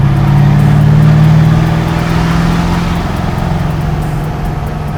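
Twin-turbo Duramax diesel-powered 1970 Chevelle accelerating, a loud, deep engine drone that swells and then settles to a slightly quieter steady roar.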